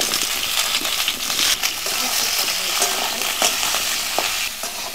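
Potatoes fry in hot oil in a pan at a rural home kitchen, giving a close, constant sizzle with scraping stirs and light clinks throughout.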